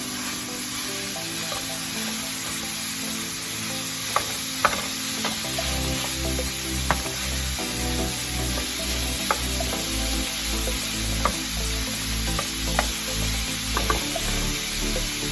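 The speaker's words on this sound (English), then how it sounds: "Beef here. I'm going to add this to my hot skillet." Beef sizzles and fries in a hot skillet with a steady, loud crackling hiss, punctuated by occasional sharp pops and stirring scrapes, close and continuous without any talking.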